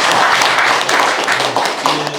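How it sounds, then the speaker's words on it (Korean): An audience at a peace-process symposium gives a big welcoming round of applause, dense, loud clapping filling the room throughout without a break. "큰 박수로 함께 환영합니다"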